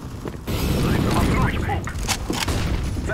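Grenade blast in a first-person shooter game: a loud, sustained boom with rumbling low end fills most of the moment after a brief lead-in, with game voices and mechanical clatter mixed over it.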